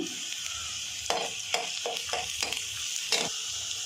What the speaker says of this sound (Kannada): ಈರುಳ್ಳಿ ಒಂದು ಸಣ್ಣ ಕೆಚ್ಚಿ ಹಾಕ್ತಾಯಿದ್ದೀನಿ ಇದನ್ನು ಸ್ವಲ್ಪ ಕೆಂಪಿಗೆ ಮುರಿಬೇಕು